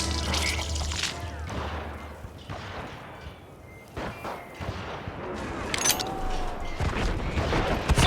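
Scattered gunshots and booming reports in the Western video game Call of Juarez: Gunslinger, irregular and mid-distance, mixed with rumbling effects and ambient noise.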